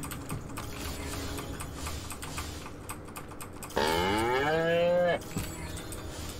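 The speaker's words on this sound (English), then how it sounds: "Again with the moo?" A cow moos once in a long, loud call inside the video game Destroy All Humans!, rising out of a bed of soft rapid keyboard typing that continues before and after it.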